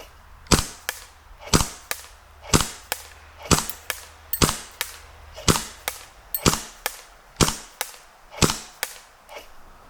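An airsoft gun fires repeatedly at a target roughly 100 feet away, about sixteen sharp, snappy shots with brief echoing tails in an uneven, fairly quick rhythm, with no talking over them.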